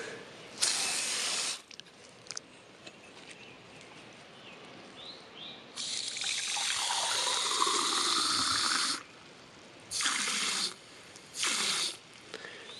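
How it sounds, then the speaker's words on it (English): Water poured onto freshly planted sedums inside a homemade eco-system box, with a few separate splashing bursts and one longer steady pour, close and fairly loud against a quiet background. "I probably should put a little bit more water on the sedums and stuff that I just planted."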